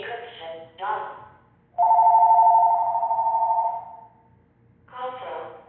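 A telephone rings once with a long, loud electronic tone between stretches of speech, on a live New York market-analysis broadcast.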